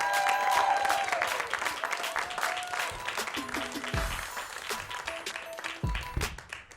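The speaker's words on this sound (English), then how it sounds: "A big round of applause for Peter Daniel." Audience at a live comedy show applauds and cheers as a comedian is introduced, dense clapping from a crowd filling the clip, mixed with a voice speaking over it.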